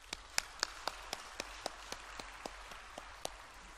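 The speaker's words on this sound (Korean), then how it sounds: "우리 다 같이 격려의 박수 한번 치겠습니다" A church congregation claps at a Sunday service, a thin, evenly spaced round of applause with sharp individual claps, fairly quiet and distant.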